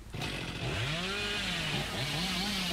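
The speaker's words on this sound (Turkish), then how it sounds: "Testereyle ota takılıyor." A chainsaw in the Dead by Daylight video game snags on grass, giving a loud, continuous engine drone whose pitch sweeps up and down as it revs. No one talks.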